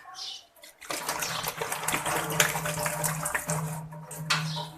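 Water sloshes and churns steadily as boiled eggs are shaken in a covered container, a dense continuous wash of liquid noise after a brief quiet start, with a low hum underneath.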